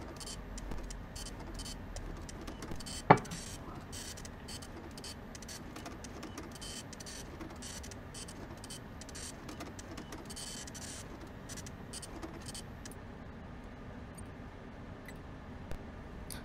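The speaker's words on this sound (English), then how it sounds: "Slowest printer in existence." A slow printer in Freddy Fazbear's Pizza Simulator runs steadily, a continuous mechanical whirring with rapid ticking and one sharp click early on, with no talking.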